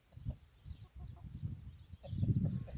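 Hens cluck and murmur softly at close range, one laying an egg, low throaty calls coming in uneven bursts with a slightly louder run near the end.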